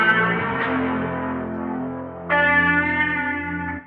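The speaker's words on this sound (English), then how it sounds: "The first guitar I found on Looperman and it sounds like this" A guitar loop for a hip-hop beat plays heavily processed sustained chords with echo and shimmering effects, shifting to a brighter, louder chord partway through before fading at the end.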